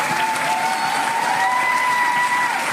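A large audience claps steadily in a dense, continuous wash of applause with a faint crowd murmur, while a thin steady tone runs underneath the whole time.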